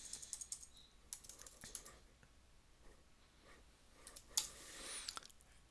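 Quiet typing on a computer keyboard, a flurry of light key clicks with brief pauses and a sharper keystroke near the end, close and faint, no talking.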